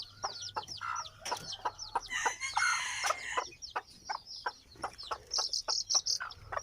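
Jungle fowl chickens cluck and chirp repeatedly in quick bursts, with a rooster-like call midway, fairly close and lively.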